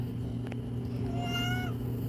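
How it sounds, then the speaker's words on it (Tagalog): A plump pet cat gives a single drawn-out meow with a rising then falling pitch, close to the mic, over a steady low hum in an indoor room. "ito yung pusa ko na mataba siya"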